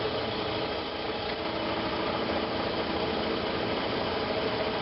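A metal lathe running in reverse in its first back gear during a chuck repair, giving a steady, continuous mechanical hum and drone with faint rattling, close and unbroken throughout.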